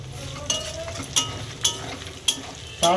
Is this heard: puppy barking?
no